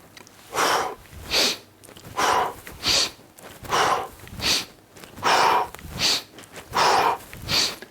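A man performing Indian club swings breathes forcefully, about ten loud, close bursts of rushing breath at a steady rhythm, with short quiet gaps between them and no talking.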